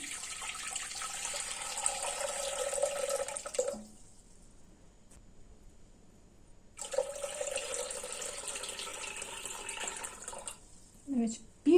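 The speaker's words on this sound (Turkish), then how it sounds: "Evet şimdi de suyumuzu ilave ediyorum." Water streams steadily into a cooking pot for a few seconds, stops briefly, then pours again, with a couple of small clinks near the end.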